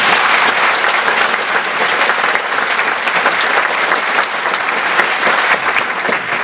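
Loud, sustained applause from an audience, steady clapping filling the room with no pause.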